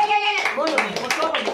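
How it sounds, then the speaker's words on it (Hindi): Hand clapping in a busy Indian street-magic crowd, short sharp claps mixed with children's chatter and other voices talking over them. "ताली बजा दो साहब।"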